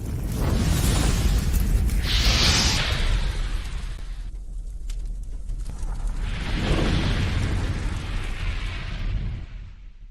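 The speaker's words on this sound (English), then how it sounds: "Fire noise." A fire sound effect: a loud, continuous roaring rumble with rushing whooshes that swell, dip and swell again over about ten seconds, heard alone.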